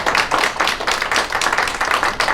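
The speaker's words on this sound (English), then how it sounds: "Let's give a big round of applause to our Dr. JungAe Pak." A seminar audience gives a steady round of applause, dense, continuous clapping from many hands filling the room with no speech over it.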